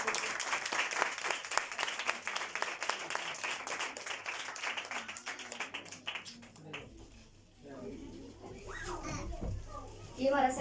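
An audience claps and cheers for girls who performed at a school Christmas program, a dense burst of applause that fades out midway, followed by children's chatter and noisy activity nearby.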